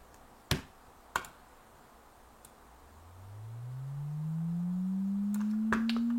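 Synthesized tones made in Pure Data glide slowly upward to a new pitch, a smooth rising hum that swells in level, with a few sharp clicks scattered before and around it.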